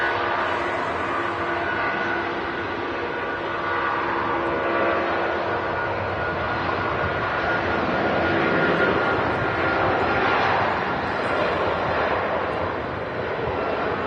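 Embraer airliner landing at Manchester Airport, a steady loud jet engine roar that swells gently and holds throughout, with no talk.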